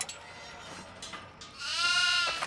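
Goats in the horror video game Devour bleating loudly, a wavering nasal cry rising over a noisy game background with no talk.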